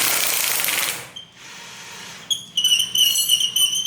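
Bolts being removed from a leaf spring shackle on a Jeep Cherokee Chief full-size Jeep: a harsh, loud mechanical rattle for about a second, a pause, then high ringing squeals from the metal parts.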